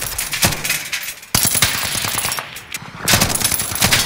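Rapid bursts of automatic gunfire in a video game rattle loud and close in dense volleys, with a short gap before the shooting resumes at full intensity.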